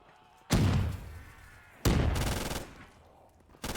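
Two loud bursts of MG42 machine gun fire in a Call of Duty zombies match on a custom Der Riese map, each a dense rattling volley lasting about a second, close and alone with no talk.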